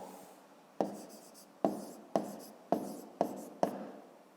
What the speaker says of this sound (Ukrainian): а тепер записуємо відповідь